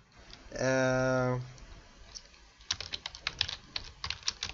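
Rapid clicking keystrokes on a computer keyboard as text is entered, in quick irregular bursts after a brief tonal beep, fairly close and alone with no talk.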